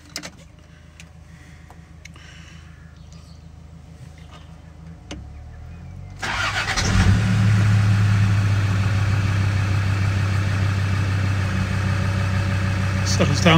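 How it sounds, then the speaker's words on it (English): A 2007 Land Rover Defender 110 TD5 double cab Spectre replica diesel engine heard up close: a few quiet clicks, then the engine cranks and fires at about six seconds and settles into a loud, steady idle. "quick video of start up and idling on this"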